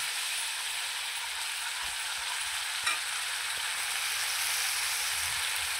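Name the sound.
green paste of ginger, garlic, chilli, coriander frying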